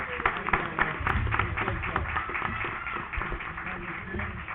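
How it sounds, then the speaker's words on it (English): Audience at a city council meeting applauding an Alabama pageant queen, a dense patter of clapping that holds steady throughout, with faint murmuring underneath. "Let's give her one more round of applause."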